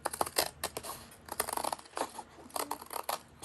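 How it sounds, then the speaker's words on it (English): Scissors snip repeatedly through paper being trimmed for a traveler's notebook cover, making a close series of crisp, irregular cuts and rustles. "I'm just going to trim this part with my scissors"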